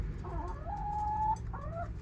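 Clucking from rescued ex-laying hens, several short, drawn-out clucks close by, with one longer rising and held call in the middle, over a low background hum.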